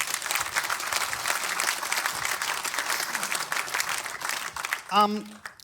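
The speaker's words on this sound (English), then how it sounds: "Please give Marco a round of applause." An audience claps for a guest at a book launch, a sustained round of applause filling most of the moment before a voice briefly cuts in near the end.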